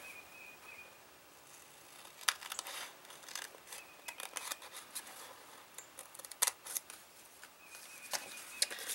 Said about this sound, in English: I'm going to cut it on that fold line.